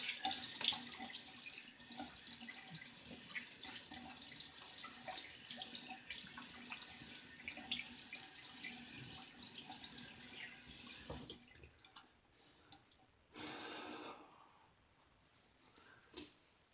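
Water runs steadily from a bathroom tap for a razor rinse, a broad continuous splash that cuts off abruptly, followed by a few short bursts of flow and quiet dripping.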